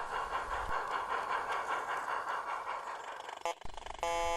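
A garden-railway model goods train rattles along the track with a steady mechanical hum and rhythmic clicking, ending with a brief high whistle-like tone.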